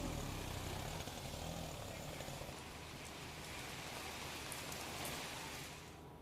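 Heavy rain falls in Dabhoi, Vadodara, flooding the main roads, in a steady, dense roar, easing slightly toward the end, with no voices.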